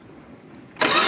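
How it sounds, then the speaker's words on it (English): The carbureted engine of a 1975 Dodge motor home, started without priming: a brief low cranking churn, then it fires abruptly into a loud, rough running roar close by. "we're going to go ahead and try starting this without priming the carburetor"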